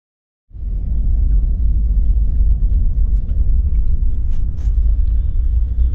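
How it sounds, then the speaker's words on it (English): Rain drums on a truck from inside the cab, starting abruptly as a heavy, steady roar of low rumble with scattered sharper patters on top. "that's rain."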